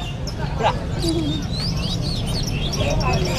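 Small sunbirds at a Palembang bird market give thin, high chirps and twittering calls, fairly close and repeated, mixed with a cooing dove and market chatter in the background.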